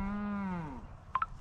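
A cow on a farm where a heifer has just calved gives one clear, drawn-out moo that falls in pitch, followed by a couple of brief, faint calls.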